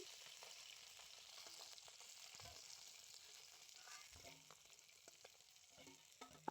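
Sea chela fish frying in oil in a kadai, a faint, steady crackling sizzle with light clinks and handling sounds of the fish being lifted out near the end.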